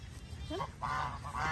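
Geese honk repeatedly on a farm, a few nasal calls at moderate distance over a steady low rumbling background.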